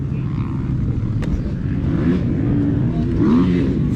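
A 2022 Yamaha YZ250 dirt bike being ridden on its first break-in laps, its engine droning loudly and continuously, with the pitch rising and falling as the throttle is opened and eased.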